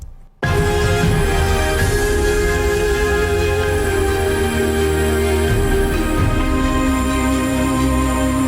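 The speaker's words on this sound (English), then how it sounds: "I also have two Spiccato strings." Short, bouncing string notes play in a dense, continuous layer, loud and full, with sustained tones underneath after a brief silent start.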